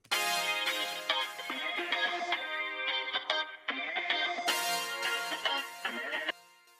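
Bright synthesized tones burst in quick succession, each trailing into echoing repeats and a washy reverb tail that fades out at the end.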